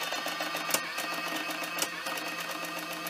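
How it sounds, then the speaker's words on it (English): A Sharp XE-A102 cash register printing its settings, a rapid steady buzzing chatter of the receipt printer with a few sharper clicks recurring about once a second. "The cash register will print all the settings."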